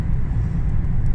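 A container-hauling LKW truck on the road gives a continuous, loud, low engine and road rumble that stays steady throughout, with no voices.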